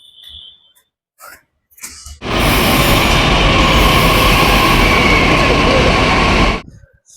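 A metro train boarded at Nal Stop station roars loudly and continuously for several seconds, with a rushing rumble and wheel noise, after a few quieter moments of ambient sound.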